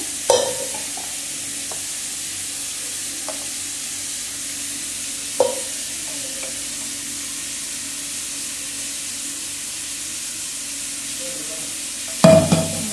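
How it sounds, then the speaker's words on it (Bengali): Prawns frying with tomato in a pan for chingri posto, a steady low sizzle running throughout, broken by a few soft clinks of stirring and a louder clatter near the end. "চিংড়িটা প্রথমে টমেটো দিয়ে ভেজে নিচ্ছি"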